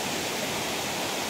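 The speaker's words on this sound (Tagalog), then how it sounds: "Look at the ambience, the nature behind these falls." Busay Falls in Magallanes, Quezon, a steady broadband rush of falling water, constant and full, with no talking over it.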